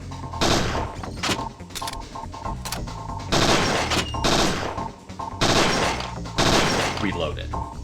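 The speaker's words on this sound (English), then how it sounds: "you have to try to fire your gun." Gunfire in the Parasite Eve 2 video game, several sharp loud shot bursts spaced irregularly and separated by short gaps, with mechanical clicks between them.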